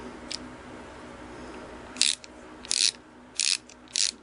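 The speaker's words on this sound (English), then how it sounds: "machine mounting screw with my ratchet here" Ratchet tightening the motor mounting screw on a Singer Model 353 Genie sewing machine, four short clicking bursts spaced about half a second to a second apart, close and fairly crisp, with no talking.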